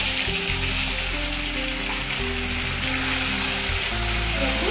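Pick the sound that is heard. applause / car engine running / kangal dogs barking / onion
onion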